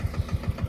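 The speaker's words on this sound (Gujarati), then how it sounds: "ને જો હાલું જાય છે ટ્રેક્ટર." A tractor engine running in a field during peanut sowing, a steady rhythmic chugging with regular low thumps about every 0.15 seconds, close and fairly loud, no voices.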